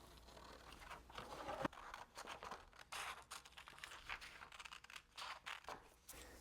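A paper plan for ukulele bracing being cut out, with soft, close crinkling and snipping of scissors through paper in a quiet, irregular rhythm.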